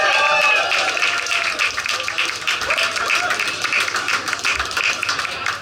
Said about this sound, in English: I'd like you all to give a very big, get it all together, very, very, very big cheer